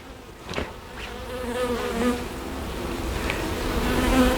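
A hive of honey bees buzzing steadily in a low, droning hum that swells slightly over time, close by, with the occasional louder bee passing near.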